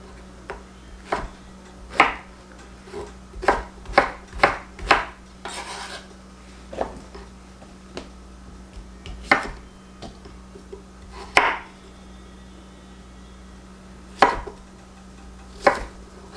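A knife chops squash on a cutting board in sharp separate thunks, a quick run of cuts early on and then slower, spaced chops, close and clear over a low steady hum.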